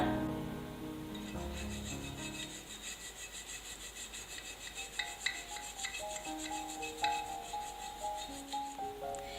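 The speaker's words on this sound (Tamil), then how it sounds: "இந்த மாதிரி பிரஷ் வச்சு தேய்க்கும் போது அந்த கேப்ல இருக்கிற அழுக்கும் எல்லாமே போயிடும்" A brush scrubs grime out of the crevices of a pooja lamp with steady back-and-forth rasping strokes, close and fairly quiet, with no talking.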